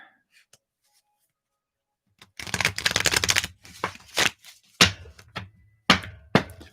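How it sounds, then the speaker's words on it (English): A deck of playing cards being shuffled up close: a dense riffle burst followed by several shorter riffles and taps with pauses between them, no talk over it. "So this is for Dawn, shuffling up for you"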